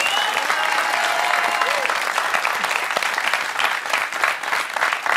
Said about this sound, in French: Vous pourriez quand même l'applaudir.